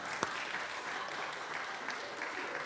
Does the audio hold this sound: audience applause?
yes